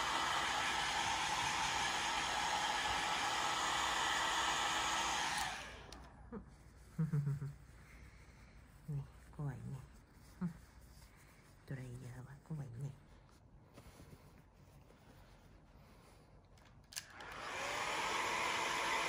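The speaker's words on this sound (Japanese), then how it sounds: "ドライヤーしようか。 ドライヤーしよう" A hair dryer roars loud and steady while a rescued kitten is dried, then cuts off while someone speaks softly in short phrases, and the dryer starts up again near the end.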